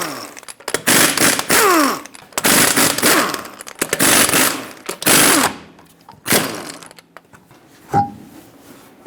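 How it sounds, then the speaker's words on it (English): An impact wrench zips the five lug nuts off a 2018-2023 Subaru Crosstrek wheel with a 19mm socket, firing several loud, rattling bursts close by, separated by short pauses. "Use a 19mm socket, remove all 5 lug nuts, and then pull the wheel off."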